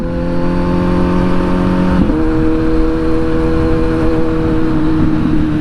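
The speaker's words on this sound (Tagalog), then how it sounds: "Na-miss ko tong motor na to." A Kawasaki Z900 motorcycle engine hums steadily while riding, a loud, close tonal drone that steps up in pitch partway through as the rider revs, with no talk over it.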